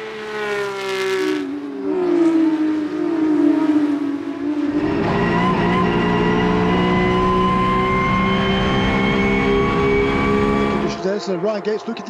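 Porsche 992 GT3 Cup race cars at Road Atlanta, one engine rising in pitch through the gears, then a loud sustained howl as cars pass close under a commentator's voice.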